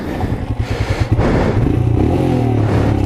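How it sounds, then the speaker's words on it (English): A Royal Enfield Himalayan small adventure motorcycle on an off-road trail, its engine revved hard up close, loud and continuous with a steady throbbing pulse rising in pitch. "Keep the revs up on this bike,"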